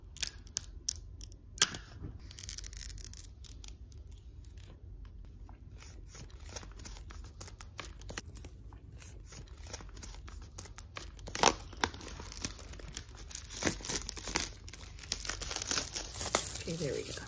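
An Apple Watch Series 5 box with a pink sand sport band, 40 mm, being opened up close: crisp cutting, crinkling plastic wrap and tearing paper in quick irregular bursts, with soft talk now and then.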